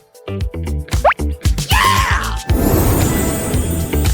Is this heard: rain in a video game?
no